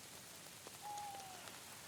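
Faint, steady rain hisses softly in the medieval video game Kingdom Come: Deliverance II, a quiet continuous wash with no voices over it.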